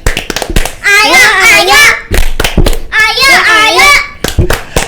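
Young kindergarten and playgroup children clap together in a quick rhythmic burst, near and loud, with children's voices chanting over the claps at an indoor school event.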